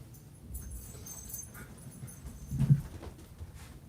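A dog named Raven whimpering at the door to be let back inside, soft intermittent whines and snuffles close by, rising to a brief louder whimper near the end, with no talk.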